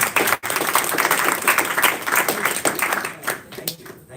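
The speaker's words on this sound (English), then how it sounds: "Round of applause. Round of applause." A conference expo audience claps in a brisk burst of applause that thins toward the end, a voice talking over the clapping.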